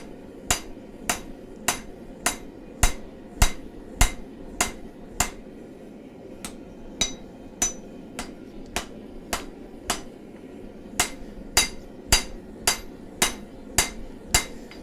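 Steel being hammered into the shape of a chef's knife: sharp, ringing blows land at a steady, even pace, about one strike every half second or so. The strikes stay close and loud throughout, with no talking.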